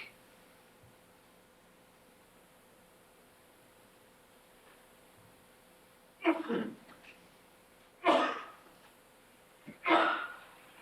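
Three sudden sneeze-like bursts in a quiet courtroom during a murder trial session, spaced a couple of seconds apart, each a sharp broadband blast that fades quickly over faint background hum.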